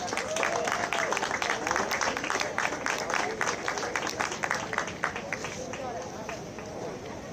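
An audience claps for placed finishers at a high school state championship, a busy patter of many hands that fades gradually while a voice talks over it.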